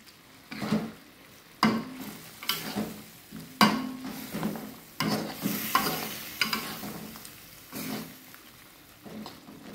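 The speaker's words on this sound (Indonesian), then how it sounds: "Masak hingga air menyusut sambil terus diaduk-aduk." Irregular scraping and clattering of a spoon stirring beef stew in a pot, with a soft sizzling bubble underneath, repeated in uneven strokes and heard close by.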